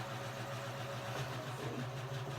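A sewing machine stitching a curve in fabric: a faint, steady motor hum with an even mechanical whir, running continuously and quietly without a break.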